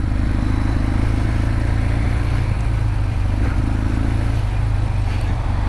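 A 1983 Suzuki GS1100L motorcycle circles a parking lot, its engine giving a steady, loud, low rumble that holds evenly throughout with no pauses.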